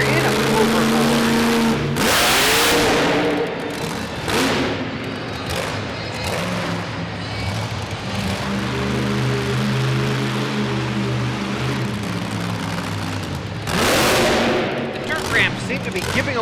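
The Overboard monster truck's engine roars and revs hard through a wheelie run at a Toughest Monster Truck Tour arena event in Youngstown, Ohio. Loud sustained revving with sharp bursts near the start and end runs under an announcer's commentary.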